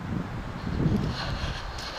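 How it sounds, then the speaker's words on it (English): Steady, rushing strong wind buffets the microphone outdoors with a low rumble, continuous throughout with no pauses. "It's getting stupid windy right now"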